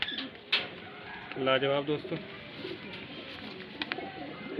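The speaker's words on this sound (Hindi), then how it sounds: "देखिए दोस्तों एक और बरेली शहर की ब्रीड आपके आगे सामने, बबरी कबूतरी।" Babri pigeon, a breed from Bareilly, giving a short near cooing phrase in the middle, with someone talking before and after over faint background noise.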